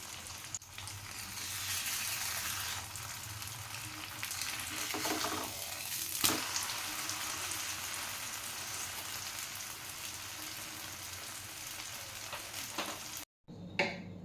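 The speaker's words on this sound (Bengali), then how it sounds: "দিকটা ভাজা হয়ে গেলে তারপর উল্টে ওই দিকটা ভেজে নেব" An egg paratha fries in a pan with a continuous, even sizzle close by and a few brief clatters near the end, before a short silence and another knock.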